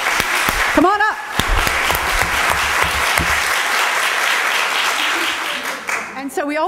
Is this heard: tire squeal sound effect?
no